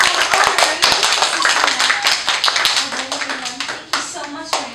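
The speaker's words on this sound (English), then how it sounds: "Everyone give yourselves a round of applause." Clapping and cheering from a group at a child's birthday party, dense irregular hand claps sustained throughout with voices mixed in, fairly loud and close.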